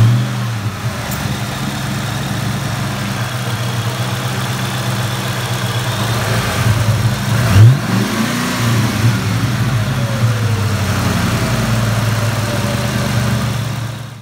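Cobra car engine after an idler pulley swap, running at a steady idle with a close rumble, a brief rev swell midway, then settling back to an even idle with no voices.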